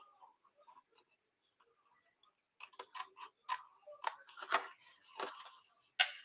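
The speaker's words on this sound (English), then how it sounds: "we're going to cut to the inside of that line there, and then I'm going to cut out that groove" Scissors cutting along a line on a paper craft gift box: a run of crisp, close snips and small clicks after a quiet start, uneven in rhythm, with no talking.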